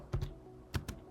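A command is typed on a computer keyboard while setting up a VPS over SSH, with a few close, crisp key taps in two quick pairs separated by a short pause, with no talking.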